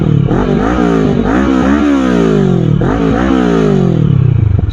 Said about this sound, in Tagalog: Okay, sound check. Aftermarket exhaust na smoke.